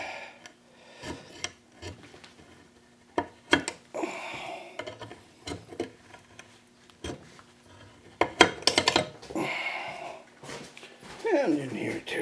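An old knife scrapes and rasps along the edges of freshly cut slots for flange-mount bearings in short, uneven strokes, close up, while someone talks in between.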